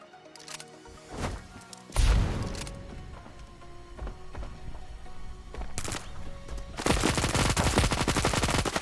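Gunfire in the mobile shooter Standoff 2 during a ManHunt round: sharp single shots and short bursts crack close by, ending in a loud sustained rapid-fire volley.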